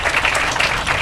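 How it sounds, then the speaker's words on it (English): Audience applause at a groundbreaking ceremony for a data technology center in Jonesboro, a loud, close burst of steady clapping filling the whole moment. "Let's give them a round of applause."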